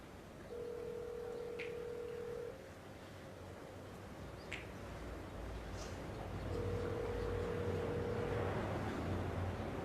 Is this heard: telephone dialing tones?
yes